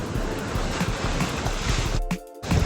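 Ocean waves heard from a boat out at sea: a steady, loud broadband rush of surf and wind that briefly drops away near the end, then swells back.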